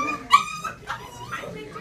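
A puppy at a play session whimpers and yips in a few short, high bursts, fairly close, with people chatting in the background.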